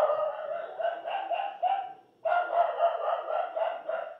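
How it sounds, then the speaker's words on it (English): Two hunting dogs barking indoors in a steady run of repeated barks, a brief pause, then another string of barks, moderately close with no voices. "Two dogs. Hunt dogs."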